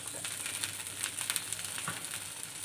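Panch dosa batter frying in oil on a flat pan, a steady soft crackling sizzle with faint pops throughout, close and fairly quiet, no talking.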